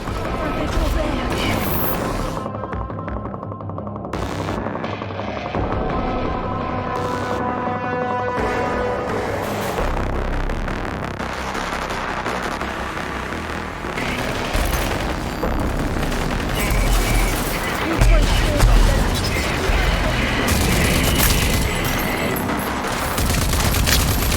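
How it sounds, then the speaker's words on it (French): Constant gunfire and explosions in the shooter game Rage 2, a dense, loud barrage of blasts and booms that runs almost without pause. "Ça pète de partout!"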